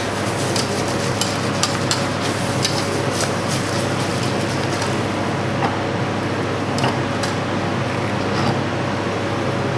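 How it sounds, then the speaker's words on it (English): A whisk stirs Pilsner mash in a Speidel Braumeister 50L brewing pot, making a steady swishing and sloshing with faint metallic taps, close and continuous over a constant background hum, without any talking. "Let's give it a good stir to avoid the dough balls."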